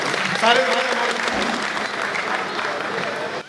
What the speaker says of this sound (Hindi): सारे कवियों के लिए एक बार जोरदार तालियां बजाइए